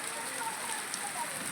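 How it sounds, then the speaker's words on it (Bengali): Hail and icy rain fall in a soft, steady patter of light ticks on surfaces, faint and continuous with no talk. "আমাদের বিশ্বে প্রথমবার বরফ বৃষ্টি হচ্ছে।"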